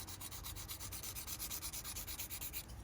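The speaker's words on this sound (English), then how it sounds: "so be sure not to sand in a certain area for too long" Sandpaper rubbing on plastic parts of an Aoshima 1/24 Pagani Zonda C12 model car kit, a close, steady rhythmic scratching in quick back-and-forth strokes, with no voices.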